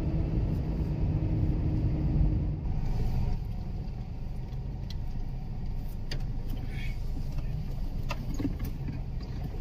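A vehicle drives along a road in Malawi, travelling in a convoy of three carrying flood relief goods; a steady low engine and road rumble continues throughout, moderately loud, with occasional faint knocks.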